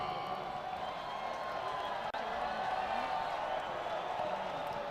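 Crowd at a college baseball game between Mississippi State and Arkansas stirs with a low, steady murmur and scattered cheers, distant and faint, under a continuous wash of stadium ambience.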